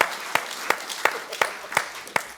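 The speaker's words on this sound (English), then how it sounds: "We'll clap that one." Applause from a conference audience after a lightning talk at an iPres 2022 digital preservation event, a soft wash of clapping punctuated by several sharp, regularly spaced louder claps from one nearby person.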